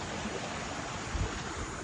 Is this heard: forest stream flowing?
yes